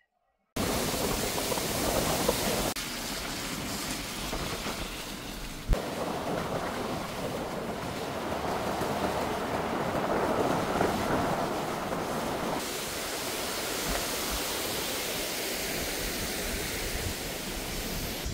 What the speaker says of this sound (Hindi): ये जो साउंड सुनाई दे रहा है वो साउंड किस चीज का पता है आपको? ये झरना का.